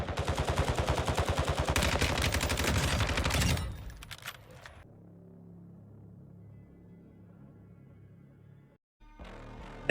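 Lachmann 556 rifle fire in Warzone 2 rips out as rapid automatic bursts for several seconds, loud and dense, then stops, leaving quieter in-game ambience and faint rumble before a brief final noise.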